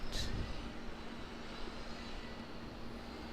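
An Air New Zealand ATR 72 turboprop at Auckland Airport gives a steady, distant engine drone with a low rumble and faint tonal hum, after a brief louder burst at the start.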